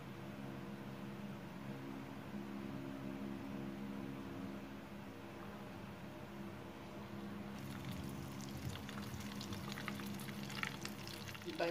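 Butter and oil melting together over a low flame for Pizza Hut-style garlic bread, giving a steady soft bubbling hiss that turns into livelier crackling spits near the end.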